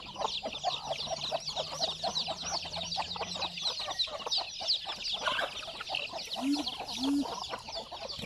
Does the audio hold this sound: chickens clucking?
yes